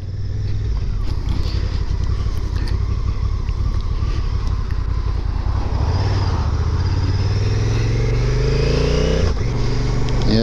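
A 2022 Honda NT1100 motorcycle engine drones steadily while riding, with a low rumble under heavy wind buffeting that builds slightly toward the end.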